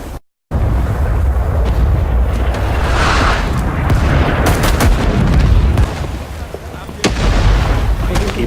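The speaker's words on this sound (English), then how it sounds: "Barrage inbound. Take cover." Artillery barrage blasts in the Vietnam-era shooter Rising Storm 2 on the Da Lat and Cu Chi maps: loud, continuous rumbling explosions layered with sharp cracks and gunfire, with voices mixed faintly underneath.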